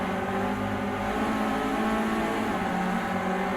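Renault Clio Cup race car heard onboard at Oulton Park during close racing: a steady, loud engine drone with a slight rise in pitch, with no talk.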